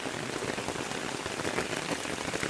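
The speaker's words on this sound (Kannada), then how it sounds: "ನಾವು ಹೋಗಿ ದೊಡ್ಡ ಮಳೆಯಲ್ಲಿ ಬಂದಿದ್ದೀವಿ" Heavy rain falls steadily near Goyar Falls in Karwar, a dense, even hiss of drops beating on surfaces that stays loud and unbroken throughout.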